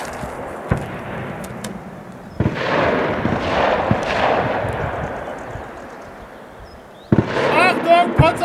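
Panzerfaust 3 anti-tank weapon firing a live round on an army range, heard as a sharp launch blast followed by a long rolling rumble that fades, then a second loud impact boom near the end.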